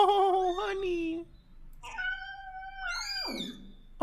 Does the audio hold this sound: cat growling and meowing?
yes